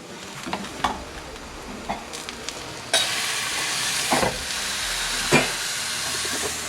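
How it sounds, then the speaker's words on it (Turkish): A tortilla dipped in water lands on a hot pan, bursting into a loud hissing sizzle midway that continues steadily with a few clatters, following quieter kitchen knocks. "Gördüğünüz gibi sadece suya batırıyor, çekiyor, sıcak tavaya atıyor."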